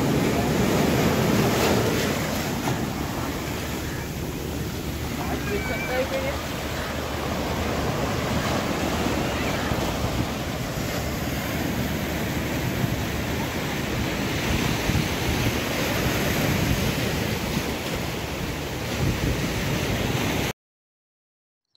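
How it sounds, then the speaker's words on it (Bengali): Sea waves wash onto the shore at RK Beach in the afternoon, a steady broad roar of surf with wind buffeting the microphone throughout and no clear breaks. "বিকেলবেলায় কিছুক্ষণ আরকে বিচের ধারে সময় কাটালাম সমুদ্র তীরে"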